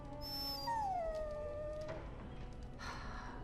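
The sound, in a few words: dog whimpering in Dragon Age Origins video game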